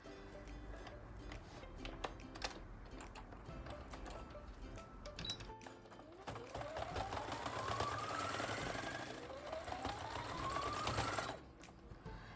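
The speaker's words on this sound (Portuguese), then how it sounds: "Terminei de costurar aqui também no gancho, entre pernas" A sewing machine stitches the crotch seam of a soft fabric bunny, running in continuous close bursts with rising whine as it speeds up twice, then stops abruptly.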